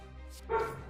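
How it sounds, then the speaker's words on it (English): A dog barks once, a short muffled bark heard indoors at moderate distance over a steady low background hum. "Sorry about the dog, as always."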